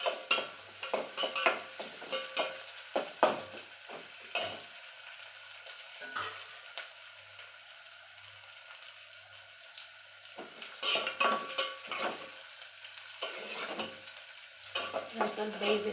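Green chilies and garlic paste fry in a pan, a steady soft sizzle broken by repeated scraping strokes of a spoon stirring, with quieter stretches between bursts of stirring.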